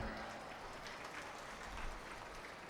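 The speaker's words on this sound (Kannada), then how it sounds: "ಎಷ್ಟೋ ಜನ ಗಂಡಸರು ತಟ್ಟಿಬಿಟ್ರು" Steady applause from a live comedy show audience at a village temple fair in Savadatti, dense clapping filling the whole span at a fairly even level without a break.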